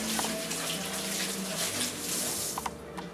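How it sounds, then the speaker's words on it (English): Running water from a tap splashes over hands being rinsed in a kitchen sink after handling a prime rib rub, a steady close rush with a few brief knocks near the end. "Wash them off, give them a little shake."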